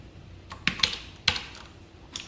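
A few scattered computer keyboard key presses while coding in Java, including a press of the Ctrl key, sounding as sparse, crisp clicks spread over a couple of seconds with no talking.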